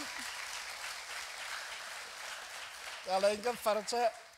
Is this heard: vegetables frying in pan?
no